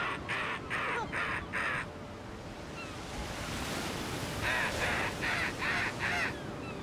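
Birds calling in repeated bursts over the sea at night, with crow-like caws in two clusters over steady surf and wind noise.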